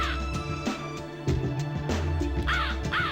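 Several loud crow caws repeat over a busy synthetic backdrop of music and game sounds, each call harsh and close, from the video game The Ring: Terror's Realm.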